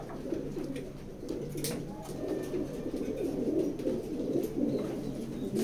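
Pigeons coo in a pigeon loft, their soft, throaty, rolling calls overlapping continuously at close range, with occasional wing flutters and light background noise.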